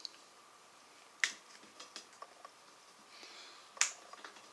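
A Magic Sliders furniture glide pops onto a furniture leg, with two sharp, crisp snaps several seconds apart against a quiet room, and a few faint clicks and handling taps between them.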